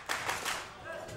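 A wrestling crowd at an indoor show breaks into a brief burst of applause and cheering, a few loud claps rising over the noise, with a commentator's voice alongside.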